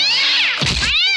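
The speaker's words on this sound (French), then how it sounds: "vous pouvez même vous amuser à tirer sur le chat" A loud, close cat meow from the video game Toy Commander, a wavering tonal cry that swoops up then down over about a second, briefly broken by a noisy burst in the middle.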